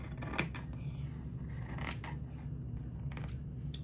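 Scissors slicing through a stack of layered paper for coffee-filter flowers, two or three close, crisp snipping cuts with soft rustle in a quiet room.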